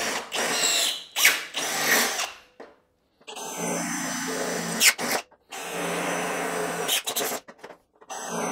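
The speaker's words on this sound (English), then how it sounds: "it's easier just to drill a hole because I'm just going to be wood screwing it straight to the wall anyway" A power drill bores holes through wooden storage rack uprights for screwing them to a wall, several loud whirring bursts separated by short pauses, with no talk.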